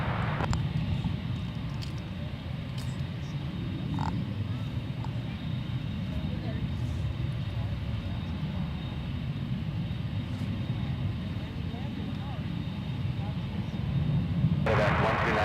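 UPS cargo plane departing Anchorage's Ted Stevens International Airport, a broad, steady engine roar heard from a distance throughout, with a brighter surge near the end and a voice talking over it.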